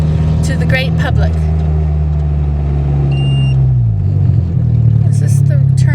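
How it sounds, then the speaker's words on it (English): A manual transmission car being driven on the road, with a steady low engine drone throughout, a brief shift in engine pitch partway through, and faint background sounds on top of the engine. "I haven't been driving a Standard for a while"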